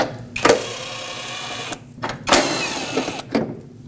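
A ratchet working 10mm bolts loose from the washer tank of a Nissan Frontier, giving several bursts of rapid clicking separated by short pauses, close and fairly loud.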